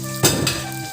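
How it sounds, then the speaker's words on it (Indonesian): Chicken hearts hit hot oil in a pan with a sudden loud sizzle that settles into steady frying crackle, a brief scrape of stirring following, close up. "baru kita goreng."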